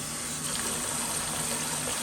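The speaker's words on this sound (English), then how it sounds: "Give that a quick rinse." Water from a swivel spray head attachment rinses a plastic fan cover, making a steady, hissing spray that stays continuous and fairly loud throughout with no talk.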